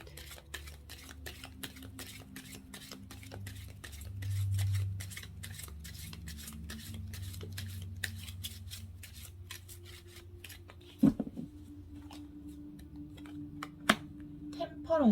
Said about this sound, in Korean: 타로 카드 3장을 뽑아 볼게요.